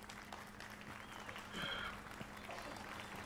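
Applause from a crowd in a Witcher 3 Wild Hunt scene, a faint steady wash of clapping with a constant low hum beneath and a brief tonal swell partway through.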